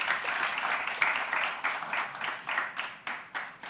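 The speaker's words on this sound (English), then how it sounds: "please, let's give a big round of applause to our guests" An audience applauds at a climate accelerator demo day, a dense, steady round of clapping that rises and dips slightly with sharp individual claps standing out, with no talking.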